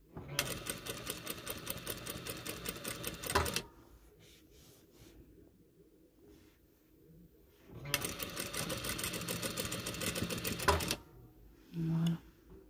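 A sewing machine stitches a fine narrow hem on a hijab in two close, rapid runs of even needle clatter separated by a quiet pause, with faint handling noises between.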